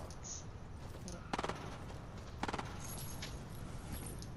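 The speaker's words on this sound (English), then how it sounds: "Oh, gunshots." Gunfire in Fortnite, two short bursts of rapid shots fairly far off, standing out over a steady background of game ambience with no talking.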